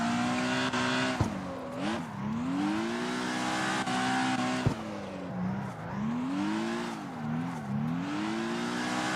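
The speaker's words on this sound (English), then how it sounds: "I did a 360 in my drift." A car drifting in the racing game CarX Drift Racing Online 2, driven with Moza CRP2 pedals: the engine revs up and down in repeated rising and falling sweeps with tire squeal, loud and continuous without talk.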